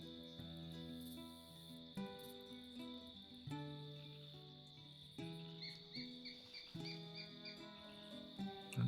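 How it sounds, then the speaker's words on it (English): Crickets chirp steadily at dusk while birds call out in repeated, clear phrases over them, a close and lively evening chorus with no talking. "the crickets, birds calling out"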